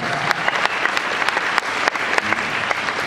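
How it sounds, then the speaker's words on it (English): Loud, dense applause from a convention panel audience at ScareLA for a Halloween Horror Nights presentation, a continuous crackle of many hands with a few sharper individual claps standing out, no speech over it. "big applause. Big applause. All right, give it up for Boneyard Productions."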